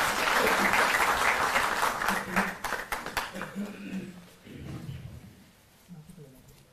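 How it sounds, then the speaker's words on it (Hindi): An audience applauds to welcome the chief secretary at a Delhi government event on compensation for farmers' crops damaged by unseasonal rain. The clapping is dense and loud at first, then thins into scattered claps and fades as a voice begins. "जोरदार तालियों से आप स्वागत करें"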